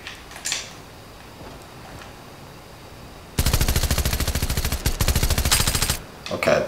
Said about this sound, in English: Start off with a nice little machine pistol.